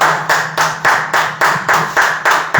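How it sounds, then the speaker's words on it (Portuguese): A church congregation claps in unison for Jesus, about nine sharp, loud, evenly spaced claps in a steady rhythm, with no other sound in between. "As palmas para o Senhor Jesus."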